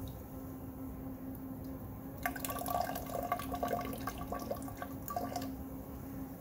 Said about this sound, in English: We'll check the flow here at the sink.